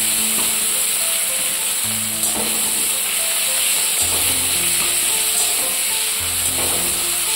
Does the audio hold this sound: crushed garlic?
yes